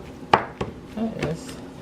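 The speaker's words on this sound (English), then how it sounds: "And I'm dumping the meat into the pan." Meat dumped into a hot pan for a keto dish, with a couple of sharp clatters of metal and utensils followed by a short burst of sizzle, close by.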